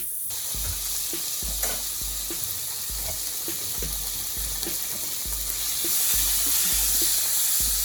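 Homemade sofrito sizzles in a pan, a soft steady fry punctuated by regular rhythmic stirring knocks, with the hiss growing slightly louder toward the end and no voices.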